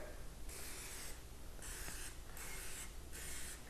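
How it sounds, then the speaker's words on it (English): Cooking spray hisses onto a Teflon muffin tin in several short, close bursts with brief pauses between them, each spray a bright airy hiss over a steady low room hum. "I'm still going to spray it anyway, just for that extra precaution to make sure that they don't get stuck in there."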